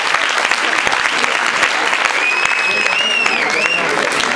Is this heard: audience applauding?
yes